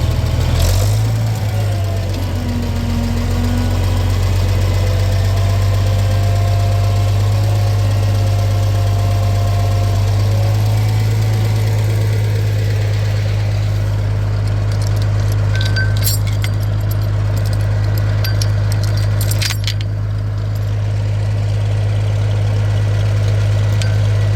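Tractor engine idling steadily with a low, continuous rumble close by, rising slightly as the throttle is given, with faint metallic clinks over it, while pasture fencing is being moved.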